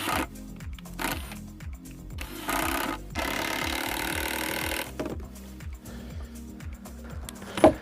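A power drill drives 3-inch construction screws into scrap wood for a raised garden bed, its motor whining up and down in repeated short bursts with a sharp knock near the end.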